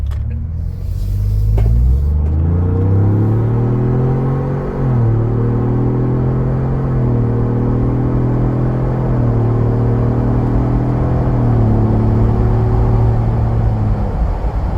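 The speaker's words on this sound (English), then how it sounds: "Actually, now with this muffler, I can hear every gear change" A 2024 Ford Bronco fitted with an aFe muffler drones a low, steady exhaust rumble while driving, rising in pitch through gear changes with noticeable shifts around five and eleven seconds, heard alone and fairly loud.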